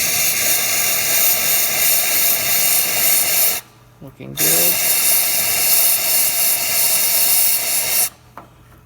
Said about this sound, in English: We'll do steam. Nice strong steam.